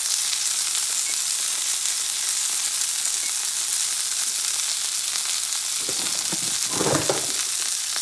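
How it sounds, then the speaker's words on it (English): A bison sirloin steak sizzles steadily in a cast iron pan, a loud close frying hiss throughout, with a brief clatter near the end as it is moved. "I'm going to fry it for a couple minutes."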